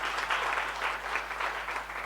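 An audience at a women's summit event applauds steadily, a dense, even wash of clapping hands filling the room without speech over it.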